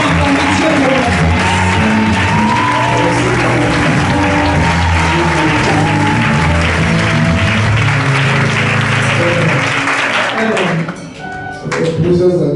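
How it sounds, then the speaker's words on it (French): A church congregation at an annual convention breaks into loud, sustained applause with scattered shouts, filling the hall before fading near the end. "Est-ce que nous pouvons acclamer Dieu pour notre vie?"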